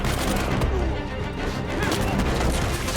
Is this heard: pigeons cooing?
no